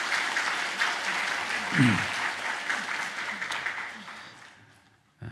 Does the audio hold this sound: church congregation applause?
yes